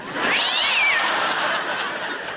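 A single drawn-out cat yowl, rising then falling in pitch, loud and close, trailing off into a softer moan.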